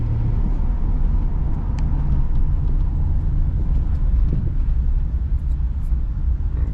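A high-mileage Ford Escape 3.0 V6 engine idles with a steady, dense low rumble that holds constant and close throughout, with no voices.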